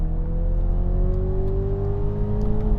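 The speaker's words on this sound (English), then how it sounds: "Now we're going to a rolling race, cars in sports mode." Toyota Supras in sports mode pulling hard through a rolling drag race, one with an old 2JZ engine and four-speed gearbox against an eight-speed car: a loud, steady engine drone with rising harmonic tones as they accelerate.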